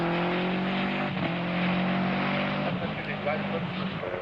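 Toyota Team Deutschland rally car at the 1991 International 3 Städte Rallye scrabbling for grip on mixed tarmac and grass, engine droning steadily with shifting revs, close and loud, commentary running over it throughout.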